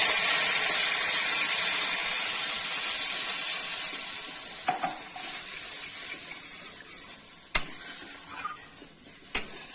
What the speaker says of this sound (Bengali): এবার মশলার মধ্যে জল দিয়ে দিব পরিমাণ মতো, যতটা লাগবে।